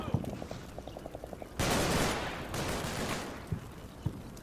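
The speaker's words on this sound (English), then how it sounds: "Machine gun out suppress him again." Combat Mission machine gun lays down suppressing fire in a quick rhythmic burst of shots, followed by a rushing wash of gunfire noise and a few scattered single reports, moderately quiet and somewhat distant.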